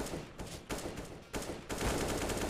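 Gunfire in a first-person shooter duel, several close, loud bursts of rapid shots with short gaps between them, building into a sustained volley at the end.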